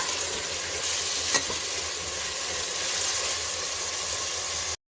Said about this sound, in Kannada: ಟೊಮೆಟೊ ಹಾಕೊಂಡ್ಮೇಲೆ ಟೊಮೆಟೊ ಮೆತ್ತಗಾಗೋವರೆಗೂ ಫ್ರೈ ಮಾಡ್ಕೊಳ್ಳೋಣ